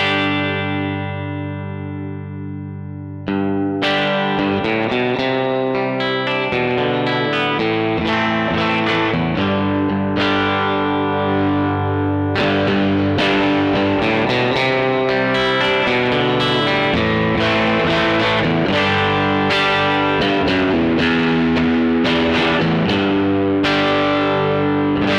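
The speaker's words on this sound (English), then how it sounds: "that's basically the reverb and the amp playing into the front end of an amp" Electric guitar played through a Lovepedal Reverb Deluxe pedal into the front end of an amp, with long reverb decay; sustained chords and notes ring out loud and continuous for the whole stretch after a brief quieter opening.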